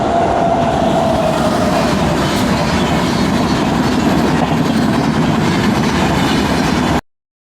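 The Hyderabad to Tiruvannamalai express train passes at close range, producing a loud, continuous roar of wheels and clattering carriages that holds steady before cutting off abruptly.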